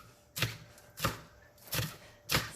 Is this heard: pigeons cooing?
no